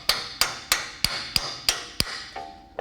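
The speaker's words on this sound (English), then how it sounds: "tap it into place" A hammer taps a track bar drop bracket onto the stock bracket of a '66 Bronco: seven evenly spaced, ringing metallic strikes, close and crisp, followed by a short tonal ring and one final tap.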